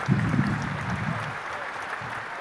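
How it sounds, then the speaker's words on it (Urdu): Applause from a mushaira audience, a steady dense wash of clapping that stays fairly even and moderate throughout, with a few lower voices murmuring near the start. "بہت ساری تالیاں ایک بار پھر ڈاکٹر عبداللہ صاحب کے لیے۔"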